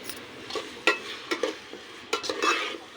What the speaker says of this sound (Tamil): அடுத்து நல்லா வதக்கி விட்டுறலாம்